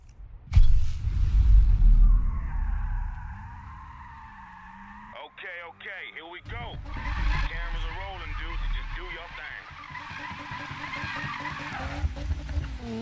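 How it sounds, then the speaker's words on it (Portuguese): Car drifting with squealing tires in the Need for Speed racing game, engine roaring and tires screeching through sustained slides, loud over game music while someone talks excitedly in Portuguese. "tem mais um drift aqui com o Manu."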